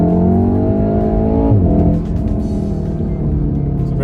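A small Volkswagen Golf GTI accelerates hard, its engine note climbing steadily, then dropping briefly at a gear change before pulling again, loud and close throughout.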